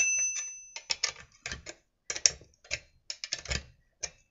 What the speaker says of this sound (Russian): Сцепление закручиваю против часовой стрелки.